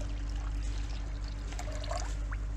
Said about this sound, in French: Et je mets autant d'eau